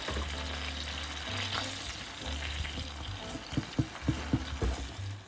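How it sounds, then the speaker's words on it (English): Onions fry gently in melted butter in a pan with a soft, steady sizzle, followed by a short run of light stirring knocks near the end. "I'm actually going to drop in some onions, because I want to sort of caramelize them in the butter"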